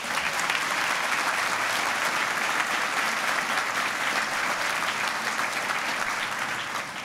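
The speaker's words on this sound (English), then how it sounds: "Round of applause for you, I think." A large university graduation crowd breaks into dense, sustained applause that stays loud throughout and tapers slightly at the close.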